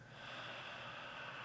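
A slow exhalation through the nose during a guided breathing exercise, a soft continuous airy rush held for the whole moment, close and quiet, with no talk.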